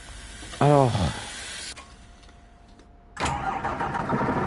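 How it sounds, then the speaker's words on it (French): A coach engine in the Fernbus Simulator game cranks and starts, with a brief whining starter sweep, a settling idle, then a louder surge of engine noise as it runs up. "On est le matin, on va mettre le tracteur à chauffer."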